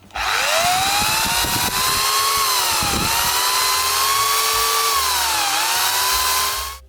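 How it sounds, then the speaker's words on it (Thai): An electric drill powered by an inverter fed from a 610W solar panel whirs loudly and steadily for several seconds, its pitch dipping briefly under load before recovering, then spinning down at the end. "ก็ทดสอบเปิดสว่านไฟฟ้าให้ดูครับ"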